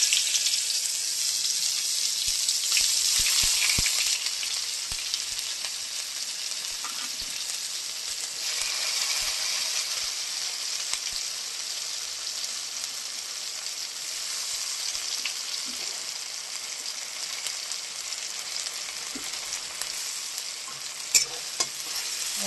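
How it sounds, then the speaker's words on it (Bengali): Onions sizzle continuously in hot oil in the pan where fish was just fried, with occasional stirring scrapes and crackles over the steady frying hiss. "এবার তেলের মধ্যে আমি পেঁয়াজগুলো দিয়ে দেবো।"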